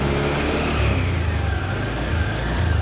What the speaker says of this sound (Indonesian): mesin Genio ini kembali hidup dengan normal